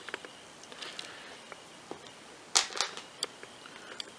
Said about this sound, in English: all you need to do is take these four screws out